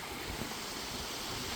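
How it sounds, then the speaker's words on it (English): Rain sweeping in outdoors on a mountainside in bear country: a steady, dense broadband hiss with gusty wind noise buffeting the microphone, loud and continuous throughout, with no voices. "Rainstorm just came in."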